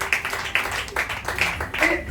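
A congregation applauding in worship, a few rhythmic rounds of clapping about every half second, mid-distance, with voices mixed in.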